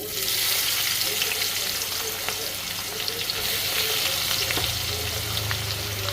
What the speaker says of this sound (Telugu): ఇప్పుడు వేస్తాం ఉల్లిగడ్డ ముక్కలు.